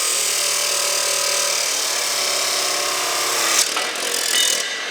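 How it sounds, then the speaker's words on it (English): An abrasive saw grinds steadily through metal with a sustained high, harsh whine that holds for several seconds before the cut ends and the tone drops away, close and loud. "When the abrasive saw is through cutting, not only does it leave a lot of burrs,"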